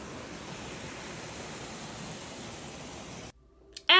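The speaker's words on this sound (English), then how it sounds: "The pools cascade beautifully from one to the next, connected by a series of waterfalls that spill into one another." Steady broadband rush of water from waterfalls spilling between a chain of pools on the Road to Hana in Maui, continuous and fairly loud, then cutting off abruptly near the end.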